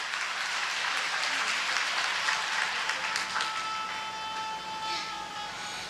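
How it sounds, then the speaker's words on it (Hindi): Sustained applause from an audience at a Shrimad Bhagavat Katha religious gathering in Sarsawa, Saharanpur, filling the space as a dense, steady wash of clapping that fades slightly toward the end. "एक बार अपने लिए आप लोग ताली बजा दीजिए"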